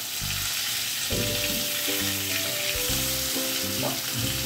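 Ridge gourd paturi pieces fry in a little oil in a Bengali home kitchen, giving a steady close sizzle with bursts of crackling each time a new piece drops into the pan, and no talk over it.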